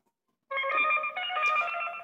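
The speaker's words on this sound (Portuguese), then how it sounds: "eu tenho a impressão que o teu telefone tá tocando" A telephone rings on an office line, a sustained harmonic electronic tone starting abruptly after a short silence and continuing steadily, fairly loud and close with no talking over it.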